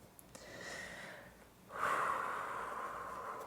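Quiet deep breathing during a morning vinyasa yoga flow, a soft inhale followed by a longer, louder, airy exhale heard close up, with no talking.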